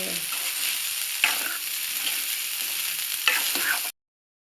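Tamarind pulihora rice stirred and mixed in a pan produces a continuous close hiss of sizzling, broken by two distinct scraping knocks from the spoon, then cuts off abruptly.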